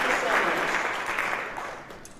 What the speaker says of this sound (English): can we have a round of applause for our